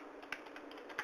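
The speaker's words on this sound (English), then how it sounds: "I am typing in the next line." Keys clack lightly on a computer keyboard, a few soft taps with two sharper strikes standing out. The typing is quiet and close, with no voice over it.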